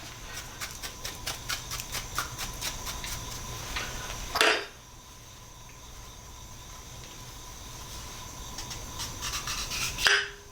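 A brush scrubs an HW97 air rifle piston in quick rhythmic strokes, close and fairly quiet, with a scraping knock partway through and steady rubbing afterward.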